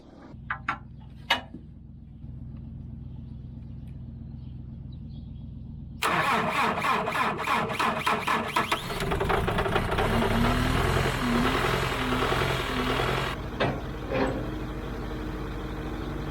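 An old Chevy engine cranks and catches, then settles into a loud, rough idle with uneven knocking pulses, close by and with no talk over it.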